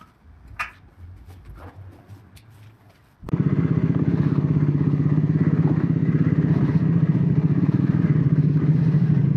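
A motorcycle being readied for a Pune to Mumbai ride starts after a few seconds of quiet handling clatter, then idles close and loud with a steady, even thrum.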